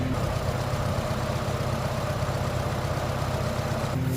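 Vintage tractor engine runs steadily on a farm, a loud, close, even low throb with a regular pulsing beat that continues unchanged throughout.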